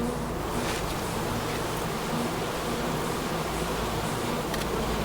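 Bees buzz closely around a person, a dense continuous hum of many insects holding steady and fairly loud with no talking.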